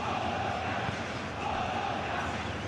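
A full stadium crowd at a Serie A football match between Bologna and AC Milan makes a steady, fairly distant roar, an unbroken wash of noise with no clear peaks.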